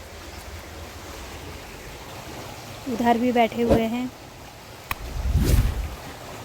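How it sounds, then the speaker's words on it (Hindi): Flooded Ganga at the Haridwar ghats rushes fast over submerged steps, a constant watery roar with wind buffeting the microphone, while someone speaks briefly over it and a gust thumps near the end. "तो पानी का बहाव बहुत तेज़ हो रखा है।"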